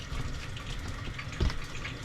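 Water from a tap at a Lucky Bay campsite in Cape Le Grand National Park, a soft, steady trickle heard close, with a brief louder thump partway through.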